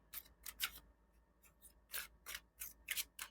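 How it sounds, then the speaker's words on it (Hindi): Tarot cards are shuffled close by in a series of crisp, papery riffling bursts, roughly eight quick swishes spaced irregularly over a few seconds, with no talking. "आपके सामने ही शफल कर रही हूं मैं इस टाइम"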